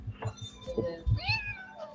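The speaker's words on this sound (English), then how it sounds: "Oh, kitty." A house cat meows indoors, several short mews and one rising, drawn-out meow, fairly close and moderately loud, with no voices over it.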